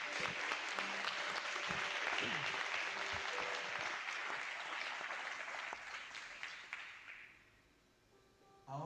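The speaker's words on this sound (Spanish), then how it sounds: "Dale un fuerte aplauso una vez más." Loud, sustained applause from a church congregation during a Spanish-language sermon, dense clapping that fills the space for several seconds before tapering off near the end.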